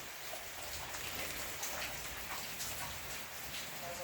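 Steady rain falling outside during a thunderstorm, a dense even hiss of drops pattering on surfaces, moderately faint and continuous with no voices.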